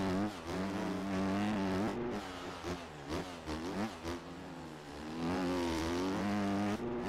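A Yamaha motocross bike engine in MX Bikes revs and shifts, its buzzing tone rising and falling repeatedly through gear changes, loud and continuous with brief throttle cuts.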